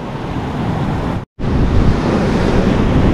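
Powerful ocean waves on an Australian shore roar continuously with heavy wind buffeting the microphone, broken by a brief moment of silence before the surging noise resumes.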